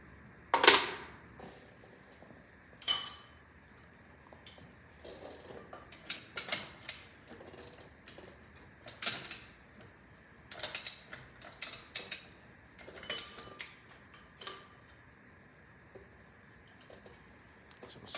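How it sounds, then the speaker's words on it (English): A hand ratchet turns a socket on a kingpin or wheel hub of a Wanderlodge bus, giving scattered clicking bursts at close range with pauses between pulls, and no talk. "super easy to turn with the ratchet,"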